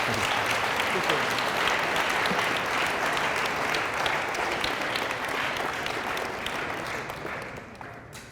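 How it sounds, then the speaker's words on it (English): A school audience at a leadership talk gives sustained, dense applause that holds steady and then tapers off toward the end. "Can we give a huge round of applause for Noah, please?"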